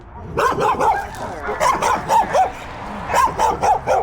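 Puppy Lily barks and yips in a string of short, loud, high-pitched barks at close range, arriving in quick bursts with brief pauses, during a bite-gear evaluation with strangers around.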